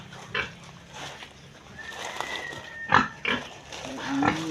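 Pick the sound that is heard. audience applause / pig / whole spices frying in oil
pig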